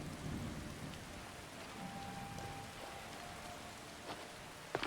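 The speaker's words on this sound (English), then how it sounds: "I'm trying to enjoy the rain." Steady rain hisses through a video game scene, with a faint low rumble of thunder underneath; the sound is soft and even throughout, with a small patter near the end.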